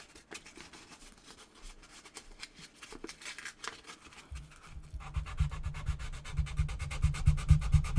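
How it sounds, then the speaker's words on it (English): Very fine sandpaper rubs across a watercolor painting in quick back-and-forth strokes, soft and scratchy at first, then growing louder and more rhythmic as the rubbing speeds up. "Here I can use a little bit of sandpaper to create an effect here"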